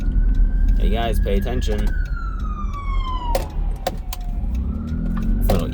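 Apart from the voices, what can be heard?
ambulance siren passing by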